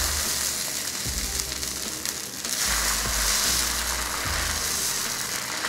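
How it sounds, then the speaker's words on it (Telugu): Bread masala dosa batter sizzles loudly on a hot pan, a continuous crackling hiss broken by a few soft scraping or spreading sounds, with no talking. "ప్యాన్ వేడి చేసుకొని బ్యాటర్ వేసుకోవాలి."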